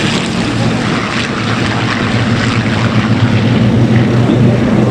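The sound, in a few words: Mustang aircraft engine at an airshow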